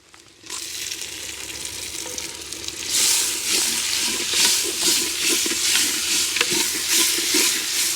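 Green chillies and red tomato pieces sizzle in a pot of hot oil for a clay-pot chicken biryani, a steady loud frying hiss that swells after a few seconds and carries on with soft stirring clatter.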